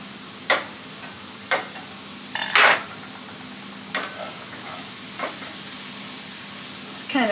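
Butter and chicken sizzling and frying in a pan, with a steady low crackle broken by several sharp scraping stirs and clinks of a utensil at close range.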